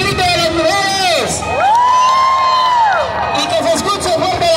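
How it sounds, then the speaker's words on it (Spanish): A crowd of women at a La Quebrada show in Acapulco shouts and cheers loudly, with rising whoops and a sustained high cry that swells and then fades back into general crowd noise. "¡Ahora el grito de las mujeres!"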